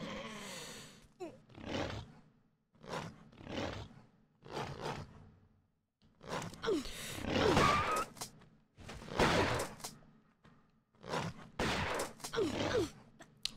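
Bursts of gunfire from the video game Tomb Raider 1 in the Tomb of Qualopec, several separate loud volleys with short gaps between them and no talk.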